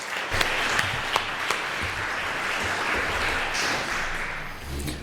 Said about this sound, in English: You can give a round of applause, yes.